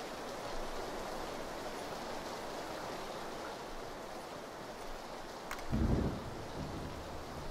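Steady rain hisses over the terrain in PlayerUnknown's Battlegrounds, a continuous even wash of noise throughout, with a single dull low thump near the end and no talking.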